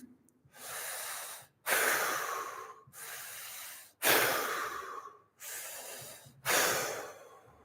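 Deep, slow breaths during a fascial exercise session, in and out in long cycles roughly every one to two seconds, close and fairly quiet, with brief silent pauses between each breath.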